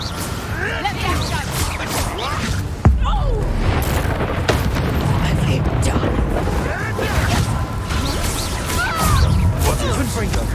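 Bombarda explosion spell going off in Hogwarts Legacy, a loud sudden blast near the start followed by sustained rumbling booms and crashing debris, with voices talking over the chaotic fight.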